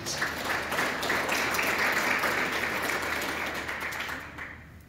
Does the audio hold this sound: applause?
yes